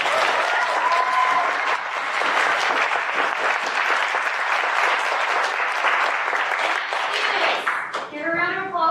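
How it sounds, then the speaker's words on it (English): Sustained applause from a crowd gathered at a 2024 mock trial competition, dense steady clapping that fills the room for several seconds before tapering off as voices begin to speak near the end. "let's give a round of applause for our two challenged."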